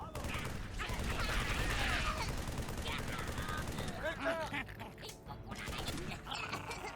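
Gunfire in the Halo 3 ODST video game: dense, loud bursts of shots and weapon clatter with a mechanical creak, running steadily through the whole stretch before thinning toward the end.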